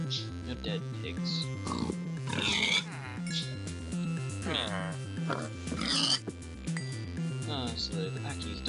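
Pigs in the video game Minecraft, with repeated grunting oinks coming in short bursts through the clip, mixed with voices and other game sound.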